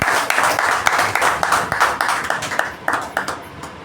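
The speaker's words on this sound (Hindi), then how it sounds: "तो एक बार इनके लिए तालियां बजाओ जरा।" Audience clapping in a hall during an Arya Samaj Shravani festival gathering in Nanded, heard as a run of sharp, uneven claps that are fairly loud and thin out toward the end.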